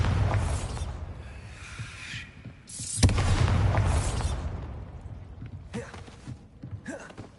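In the Hogwarts Legacy game, a Bombarda spell goes off with a loud booming blast amid dense rumbling noise, followed by crackling debris and lingering roar that gradually settles.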